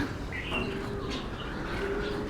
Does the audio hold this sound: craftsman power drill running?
no